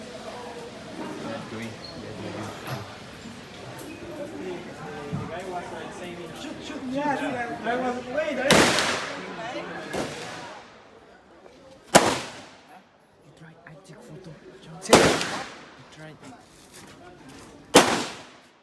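AK rifle fire at the Cu Chi tunnels shooting range, four sharp, loud single shots spaced a few seconds apart, following a stretch of crowd chatter and talk in the background.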